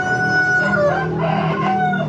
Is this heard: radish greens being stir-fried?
no